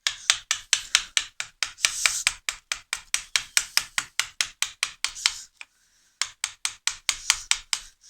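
A chisel chops out wood for a stopped housing joint in rapid, even mallet strikes, close and loud, with one short pause before the blows resume.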